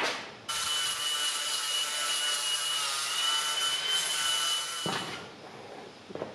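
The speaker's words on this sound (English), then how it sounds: "It's like a little sandpaper flappy wheel." A sandpaper flap wheel on a power tool grinds over a concrete dome's interior wall, starting abruptly into a loud, harsh, continuous abrasive whir for about four seconds, then spinning down to quiet with a few light taps.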